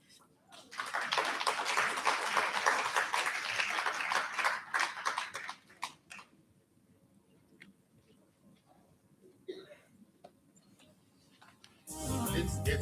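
Audience applause after a presentation at a South Africa–Colombia forum, a burst of clapping for several seconds that fades, then quiet room noise and another brief loud sound at the end.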